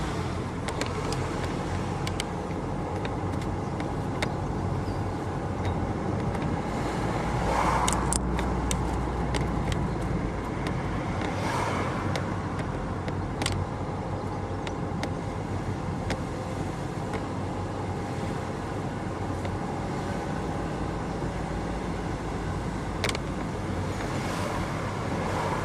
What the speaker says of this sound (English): we will drive through the town